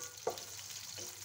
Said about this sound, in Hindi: हमारा कुकिंग ऑयल गर्म होगा हम अपनी प्याजों को इसमें फ्राई कर लेंगे